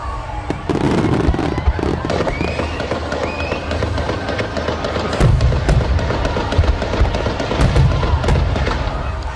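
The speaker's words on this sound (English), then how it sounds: "So half of those explosions are gunshots." Dense Fourth of July fireworks in America mixed with gunshots, a continuous barrage of near and distant bangs, pops and crackles with deep booming thuds, loud throughout with faint voices in the background.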